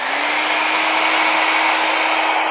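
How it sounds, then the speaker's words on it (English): A hair dryer is switched on and blows air in a steady, loud, whirring rush with a faint hum beneath it, close by and uninterrupted. "And if I turn on this hairdryer,"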